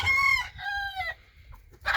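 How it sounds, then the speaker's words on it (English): Close by, a rooster crows in a long drawn-out call, then crows again more briefly. Softer clucks from chickens follow at the end, with no speech. "I've got quite a few roosters here."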